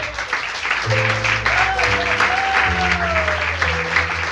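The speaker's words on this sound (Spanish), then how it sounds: "Dale un aplauso, pues." Congregation applause at a Spanish-language church service, a steady wash of clapping heard under sustained keyboard or organ tones that hold and shift pitch throughout.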